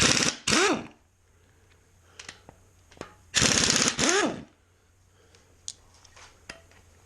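An impact wrench fitted with a 3/4 socket works on a Jaguar MKII engine during a rebuild, firing two loud rattling bursts of about half a second to a second each, separated by quieter clicks and handling noise.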